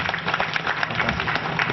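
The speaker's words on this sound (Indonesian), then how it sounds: "Kita boleh berikan tepuk tangan yang paling meriah menyambut" Crowd applause at an anniversary gathering, a steady dense patter of many hands clapping throughout, fairly loud and continuous with no voices over it.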